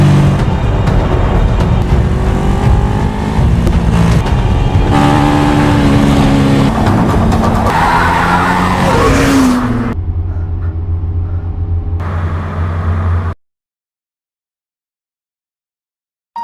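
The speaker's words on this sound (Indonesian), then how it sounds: "Kira yang mengejar telah mendekati mobil dari Fiona itu, dan dengan cerdiknya, Fiona melakukan manuver tajam untuk lepas dari kejaran Kira itu" A car chase in a horror film scene roars with loud engine revving and tire noise during a sharp maneuver, sustained and close, then cuts to a quieter hum before abrupt silence.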